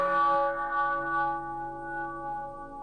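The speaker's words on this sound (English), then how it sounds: "Here's the cathedral bell." A cathedral bell tone played from an old iPhone bell app rings out as one sustained, harmonically rich strike that slowly decays over a few seconds, heard alone without talk.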